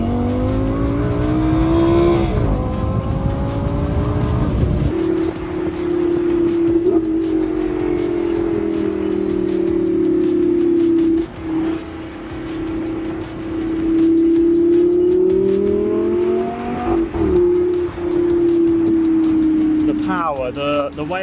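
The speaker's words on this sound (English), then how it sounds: "Just listen to this acceleration." A Lamborghini Gallardo accelerates hard from inside the cabin with a loud engine roar. Its pitch climbs through each gear, dips at the shifts and holds a sustained high wail, while a voice talks over it.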